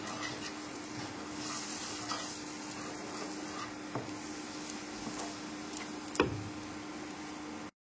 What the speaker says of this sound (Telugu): తరువాత ఉప్పు, పసుపు కూడా వేయించుకొని కలుపుకోవాలి